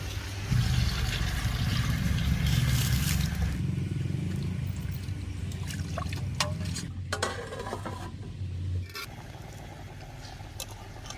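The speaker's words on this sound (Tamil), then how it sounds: "தண்ணி ஊற்றிக்கலாம்" Water pours into a cooking pot for goat intestine biryani with a continuous trickling gurgle, followed by clinks and light handling noises.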